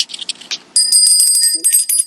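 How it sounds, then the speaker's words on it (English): A small bicycle-style bell rings with bright, sustained metallic tones, struck several times in quick succession and loud and close, following a few shorter chiming taps at the start. "So we have a bell."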